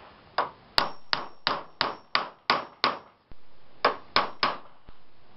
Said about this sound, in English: we Just use a hammer and it sets it to the proper depth